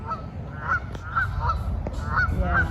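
Geese honk repeatedly at a steady rhythm, several calls at moderate distance over a low rumbling background, with a couple of faint clicks.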